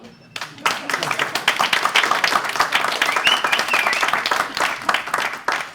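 Audience at a theatre show bursts into dense, sustained applause that starts abruptly after a brief pause and carries on loudly throughout, with a few faint voices mixed in.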